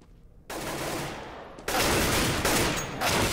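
Rapid automatic gunfire in Counter-Strike on the de_train map during a tournament match, breaking out in a dense burst after a short quiet, then a second louder sustained volley.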